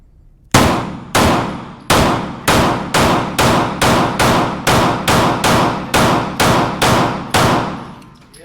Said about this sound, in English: This is actually my first test fire with this gun